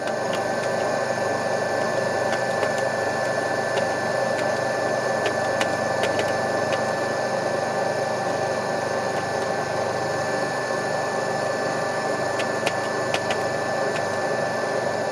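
An asynchronous induction AC motor runs at no load with a steady, continuous mechanical hum and whir, close and even in level throughout, with faint ticks scattered on top.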